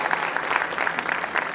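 Applause from an audience at a motivational success speech for a wellness business, a brief burst of crowd clapping, bright and fairly loud, with no speech over it.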